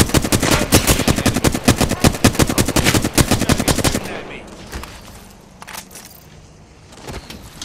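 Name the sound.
gunfire in a video game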